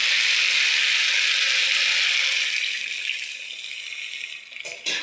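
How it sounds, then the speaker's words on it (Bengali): Water pours into a pan of chalta chutney simmering with turmeric, a close steady splashing gush that gradually thins and tapers near the end. "তখন আমি এর মধ্যে জল দিয়ে দেবো"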